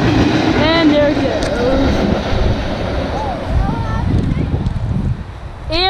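A CSX freight train with a new boxcar rolls past a level crossing, a steady loud rumble of rail cars with high squealing tones from the wheels, under some talk.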